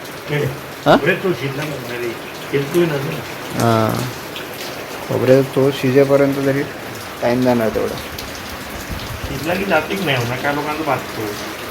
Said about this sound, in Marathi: खोबर शिजलं पाहिजे ना चांगला मस्त उकळी आली आहे